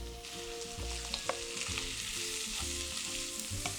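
Calabrese sausage and sliced onion seasoned with oregano sizzle steadily in a frying pan, a continuous close crackle with small pops throughout.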